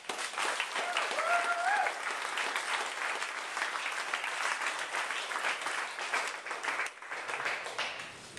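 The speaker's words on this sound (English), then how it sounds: "Let's give these guys another clap." Steady applause from an audience at a university research symposium, many hands clapping in a dense, even wash that carries on for several seconds, with a brief dip near the end and a faint voice early on.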